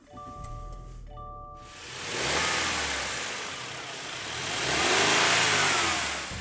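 Turbocharged four-cylinder engine of a Subaru Ascent SUV pulling hard, revving up in two rising surges heard from inside the cabin, after a brief electronic chime at the start.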